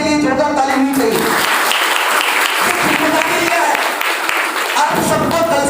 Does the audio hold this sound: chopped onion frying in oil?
no